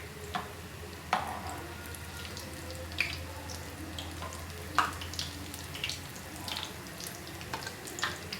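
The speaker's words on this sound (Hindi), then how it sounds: "इसको दरमियानी आंच पे ही आपने फ्राई करना है" A Maggi roll shallow-frying in a pan over medium heat gives a soft, steady low sizzle with occasional sharp pops and crackles spaced a second or two apart, fairly quiet throughout with no talking.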